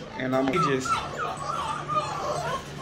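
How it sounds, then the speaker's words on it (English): Bully breed puppies whimpering and yipping in high, wavering cries, close and moderately loud, mixed with a person talking. "I'm about to let the puppies out before they can go eat"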